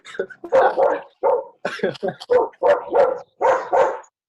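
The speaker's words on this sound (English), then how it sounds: "Dog is disturbing." A dog barks repeatedly in a loud, close series of sharp barks and yips in an indoor setting, with some voices mixed in.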